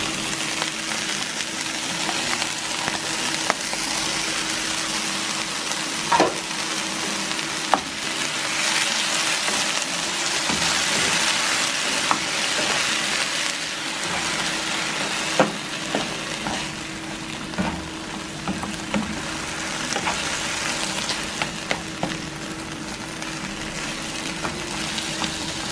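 Diced onion, tomato and bell pepper fry in a pan with a steady close sizzle, punctuated by occasional clinks and stirring scrapes.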